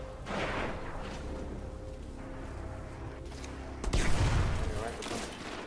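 Gunfire from a Destiny Trials match, a dense crackling volley of shots running under a player's game chat, with a louder burst of impacts near the end.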